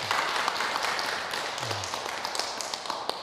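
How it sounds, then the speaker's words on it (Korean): An audience at a Buddhist dharma talk applauds the monk Silsang, head of Beopwangsa temple, with steady moderately loud clapping that runs through the whole stretch. "법왕사주 실상스님께 큰 박수 한번 부탁드립니다"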